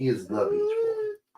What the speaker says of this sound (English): Why are you whining? That's my dog whining.